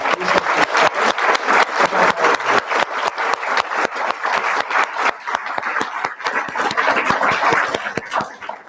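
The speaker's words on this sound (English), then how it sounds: "I'd ask you to give her a round of applause as well" An audience at a guided meditation teaching bursts into sustained applause, many hands clapping in a dense, steady patter that carries on for several seconds at even loudness.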